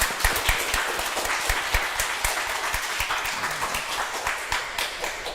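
Church congregation applauding during a ceremony installing new deaconesses, a moderate group of close, distinct handclaps with a loose, uneven rhythm lasting several seconds.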